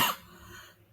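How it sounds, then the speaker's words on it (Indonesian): A single short cough bursts out close and fairly loud, then fades into quiet room air. "atas gangguan batuk saya"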